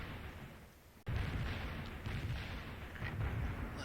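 Artillery fire in the World in Conflict video game: a sudden heavy boom cuts in after a quiet moment, followed by rumbling low blasts and continued battle noise.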